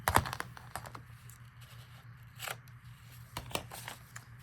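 Scissors make a few quick, close snips as they trim a torn edge of a brown paper shopping bag being decorated as a gift bag, each a short crisp cut with quiet gaps between.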